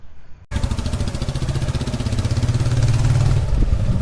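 A 2003 Royal Enfield Bullet, an ex-army vintage motorcycle, fires up and settles into a loud, close idle with its steady thumping single-cylinder beat, growing slightly fuller toward the end, no talking.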